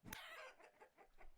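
A chicken in the game Vintage Story gives a quick run of soft, rhythmic clucks after one sharper opening squawk, faint and on its own.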